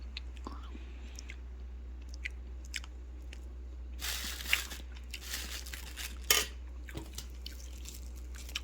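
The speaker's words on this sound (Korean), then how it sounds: "중간중간에 이런 초코 초코칩 같은 것도 씹혀요 같이" Chewing blueberry chocolate cream cake with chocolate chips: soft, close mouth sounds with moist smacks and a few crunchy bites over a steady low hum, faint and intermittent.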